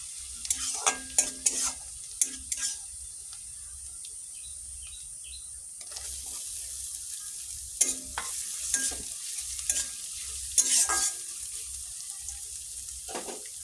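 Onions fry in hot oil after garlic has browned, a soft steady sizzle broken by several bursts of scraping and clattering as a spoon stirs the pan.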